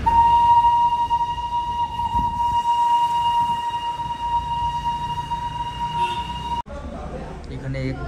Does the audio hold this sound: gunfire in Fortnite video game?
no